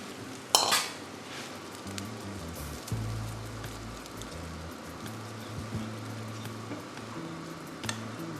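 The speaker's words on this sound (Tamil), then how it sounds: "இப்போ நாம் இதில் ஸ்டாக்கை விடுறோம்" Stock is poured into a pot for pirandai soup, making a close, steady, rain-like splashing and hiss with a few metallic clinks of the pot, and no one speaking.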